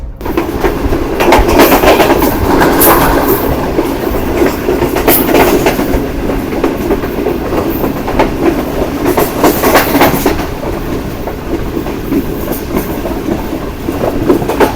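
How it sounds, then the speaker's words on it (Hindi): A Green Line train rolls fast out of Chaklala, Rawalpindi, on a slight downgrade, its steady loud wheel rumble and rhythmic clickety-clack filling the clip without any talk. "बड़ी तेज़ रफ्तारी से चकलाला से निकलने के बाद ट्रेन अपने सफ़र पर गामज़न है"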